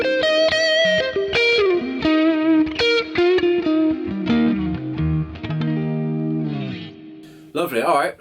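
Glarry GTL budget Telecaster-style electric guitar on its neck pickup at full volume, playing a run of sustained single notes and double-stops, close and loud with a smooth, rounded tone and a short strummed flourish at the end.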